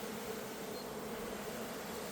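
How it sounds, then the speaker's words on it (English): Honeybees buzz at a hive during small-scale queen rearing, a dense, even hum that holds steady throughout, faint and at a distance, with no voices. "Bunch of bees."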